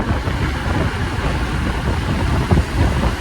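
An older BS4 KTM RC 390 motorcycle engine runs with a steady, rough low rumble, close and loud throughout with no talk.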